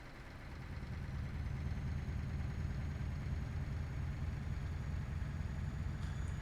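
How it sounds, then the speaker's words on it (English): A stock Scania V8 730 hp truck engine in Euro Truck Simulator 2 drones at a steady low rumble while cruising, constant and fairly quiet with no voices over it. "It's the stock Scania V8 730 horsepower."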